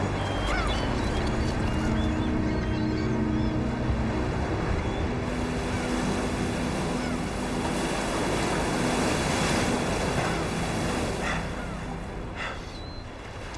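Steady roar of ocean surf breaking along a shore, with wind rushing across the microphone; no voices, the wash easing slightly near the end.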